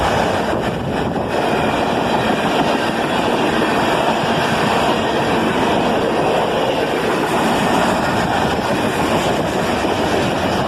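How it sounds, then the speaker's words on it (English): A CSX manifest freight train led by an ES-44DC locomotive rolls past at dusk with one auto rack mixed into the consist, giving a loud, steady rumble of wagons with wind buffeting the microphone throughout. "A manifest train at dusk, led by an ES-44DC"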